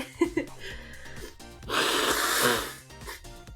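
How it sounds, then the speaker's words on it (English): A single forceful nose blow, a noisy rushing burst lasting about a second, preceded by small sniffs and mouth sounds, with music playing faintly underneath. "I'm actually gonna blow my nose real quick."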